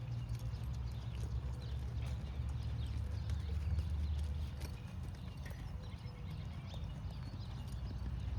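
Horse hooves beat out a steady, rhythmic lope on a big circle in an arena, clear and continuous drumming with no talk over it.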